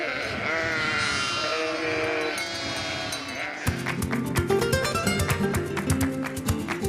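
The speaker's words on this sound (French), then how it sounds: "Dans ces plaines, les brebis viennent également prendre leur quartier d'hiver." Sheep bleat repeatedly on open Camargue plains where flocks spend the winter, several overlapping calls near and loud, the bleating growing denser and more layered in the second half.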